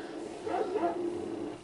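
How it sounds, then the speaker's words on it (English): Dog barking from GTA San Andreas with Minecraft mods plays as a short burst of game yips and barks, fairly close and moderately loud against a continuous background of game noise. "Man, what the hell is this noise? What is this dog at?"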